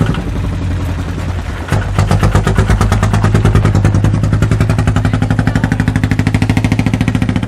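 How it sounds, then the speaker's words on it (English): Tuk-tuk engine running nearby, a loud, rapid, evenly pulsing putter that settles into a steady clattering idle after a brief change in note. "That's your tuk-tuk sound, huh?"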